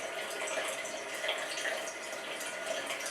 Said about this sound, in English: You might notice the smell of the water, the sound, seeing the way it's rippling and moving